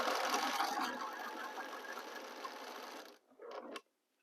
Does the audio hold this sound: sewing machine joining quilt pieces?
yes